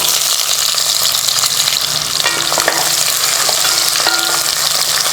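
Small shallots sizzling as they fry in oil in a pan for tomato kulambu, a steady close crackling hiss with a few light clinks of a spoon stirring against the pan.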